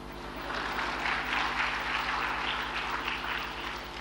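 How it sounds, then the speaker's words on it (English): An audience at the WCIT 2016 conference session applauds a professor, a broad sustained wash of clapping from a large hall over a low steady hum, with no talking. "Another round of clap."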